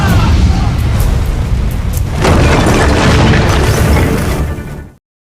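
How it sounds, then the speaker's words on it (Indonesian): A loud, booming building explosion in a Telugu action film roars and rumbles for several seconds, swelling midway before cutting off abruptly. "gedung yang berisi Tirupati dan sekutunya pun meledak"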